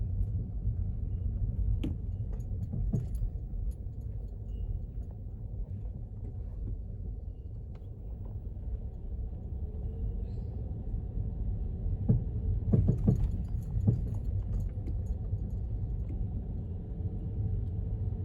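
A car gives a steady, noisy low rumble from start to finish. A few faint knocks and rattles come through near the middle, with no talking.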